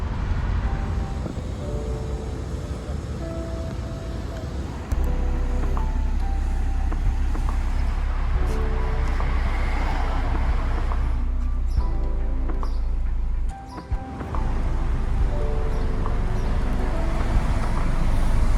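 Steady city road traffic in Arad, Romania, with cars rumbling past continuously at moderate loudness and a brief dip in the noise partway through; no one speaks.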